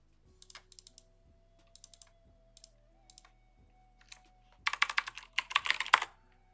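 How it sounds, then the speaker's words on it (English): Fingers type on a computer keyboard in a quiet room: scattered single key clicks at first, then a rapid, louder burst of keystrokes near the end. "I'm going to create a new app by typing the Rails new command"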